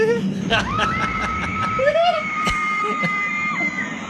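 Loud, drawn-out screams from the 1989 horror film Shocking Dark, a sustained shrill wail holding steady for several seconds over a busy background of other voices and commotion.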